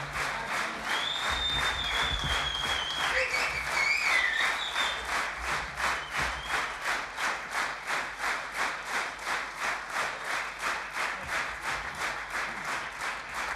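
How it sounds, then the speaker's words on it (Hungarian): Applause from a concert audience after a big band performance: dense, sustained clapping that settles into a steady rhythmic beat, with a few faint whistles or cheers over it early on. "Big Band, nektek tapsolnak"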